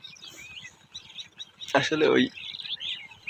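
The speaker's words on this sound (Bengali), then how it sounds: "সকালবেলা করে এই যে দেখুন পাখিরা" Morning birdsong near a maize field, with small birds chirping and tweeting steadily in the background under someone talking close by.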